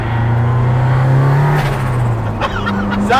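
A 350 bhp Ford Escort Cosworth Mk1 engine, running close and loud, holds a steady idle and then climbs in revs. A short boosted rev and sharp crackles follow near the end.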